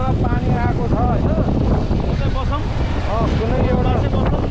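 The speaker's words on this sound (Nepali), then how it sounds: "यो हावा र पानी आएको छ होइन" Strong wind roars and buffets the microphone without pause during a motorbike ride toward Ghale Gaun, with wind and rain arriving on the road. A voice is heard faintly beneath the constant rush.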